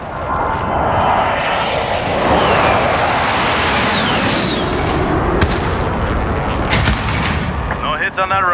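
A precision airstrike jet in Call of Duty Modern Warfare roars overhead in a loud, sustained sweep, with rumbling blasts and distant gunfire mixed underneath.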